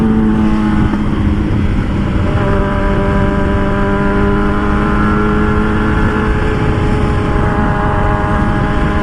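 A warmed-up motorcycle engine runs steadily and loudly up close, a continuous throaty drone with stable harmonics held across the whole stretch, no talking over it.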